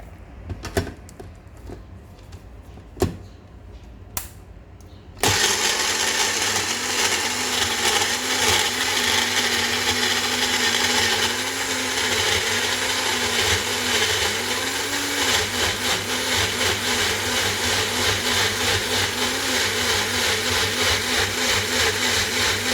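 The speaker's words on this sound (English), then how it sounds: "about 3 cm worth of ginger, and then we will blitz this" A kitchen blender blitzes chopped onion, garlic and ginger for a chicken curry, starting abruptly after a few quiet clicks and then running as a loud, steady whirring grind with a rhythmic wobble throughout.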